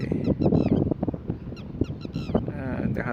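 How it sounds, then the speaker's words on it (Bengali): Northern lapwing giving sharp, repeated high calls over someone talking throughout, the bird fairly close and the calls coming in short bursts. "এখানে একটা পাখি, হটিটি পাখি বা ল্যাপুইং"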